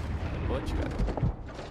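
An explosion in the video game Call of Duty: Warzone 2 gives a brief, heavy rumbling blast with crackling debris, close and loud over ongoing game noise.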